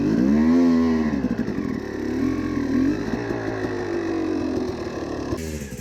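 A motorcycle engine runs steadily up close as the rider lifts off the seat to roll the front and then rear tire over an obstacle, the motor loud and continuous with slight pitch shifts.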